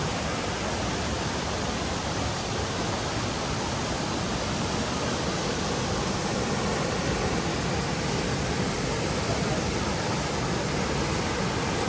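Ceunant Mawr waterfall in Wales pours down into a pool below, a loud, steady broadband roar of falling water that holds unbroken and close throughout, with no voices.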